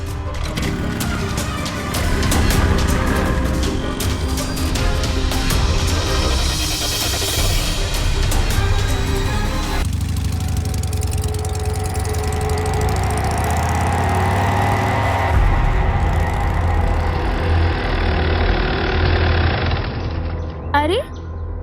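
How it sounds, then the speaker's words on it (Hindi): A motorbike engine runs steadily through a tense roadside scene, with voices talking over the low, continuous rumble and a shift in the engine tone partway through. "सवाल जवाब मत पूछो, बाइक स्टार्ट करो"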